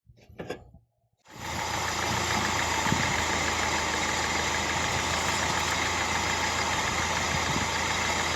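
After a brief faint noise and a moment of silence, the engine of a 1987 Chevy Chevette settles into a steady, even idle while warming up, a continuous mid-pitched hum close by with no talking.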